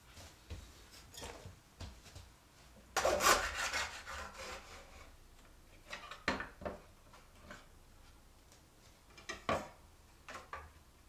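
A wooden frame molding is hand-sawn in a miter box, heard as quiet scattered rasping strokes with one louder burst of sawing early on, close and with no talk.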